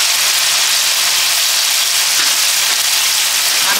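Garlic paste sizzles in hot oil, a loud, continuous close-up frying hiss that holds steady throughout.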